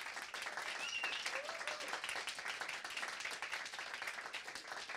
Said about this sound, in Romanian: Vă mulțumesc din suflet pentru aplauze